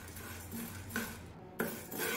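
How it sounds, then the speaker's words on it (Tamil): Toor dal dry-roasting in a kadai over a low flame, a spatula scraping and clinking against the metal pan a few times, faint and close with no talking. "கடாயில் அரை கப் துவரம் பருப்பு சேர்த்துக்கோங்க. அதையும் லோ ஃப்ளேமில் வறுத்துக்கோங்க."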